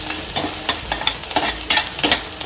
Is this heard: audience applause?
no